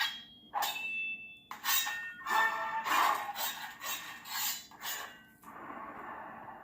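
A Goonies-themed pirate lightsaber with a Crystal Focus X sound board and a yellow blade plays a rapid run of sharp metallic sword clashes and swishing swings, close and fairly loud, ending in a softer sustained hum.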